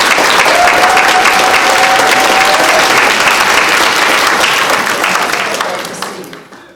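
An audience at a college of education graduation ceremony gives a full round of applause. Dense, loud clapping holds steady for several seconds, then tapers away toward the end.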